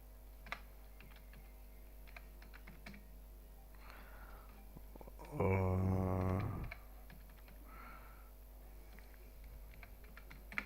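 Dates being typed into an Excel sheet on a computer keyboard: faint, scattered key clicks throughout, with a louder tonal burst in the middle.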